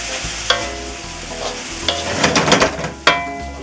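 Onion, bell pepper, celery and garlic sauté in hot oil for a pasta sauce, giving a steady close sizzle broken by several louder stirring scrapes and clacks, with no talking.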